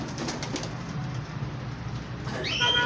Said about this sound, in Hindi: ये खाकी कबूतर पड़ा हुआ है